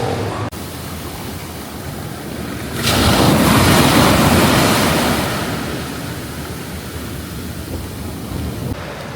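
Ocean waves wash onto a beach at Aureo Beach Resort, La Union, Philippines, a surge swelling loudly then slowly receding, with steady wind rushing across the microphone throughout.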